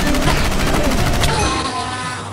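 Blaster firing in a Minecraft game, a loud dense burst of rapid-fire shots that roars for over a second before trailing into a fading rumble.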